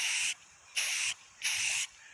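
Spray paint hisses onto a camper's tongue in three distinct bursts, each a steady, fairly loud hiss of under half a second separated by brief quiet pauses.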